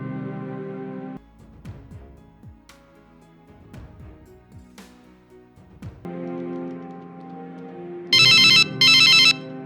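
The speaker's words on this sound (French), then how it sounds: "Ton téléphone n'arrêtait pas de sonner depuis tout à l'heure." A phone ringtone plays a looping melodic tune, then bright electronic ringing bursts twice near the end, loud and close, with no one talking.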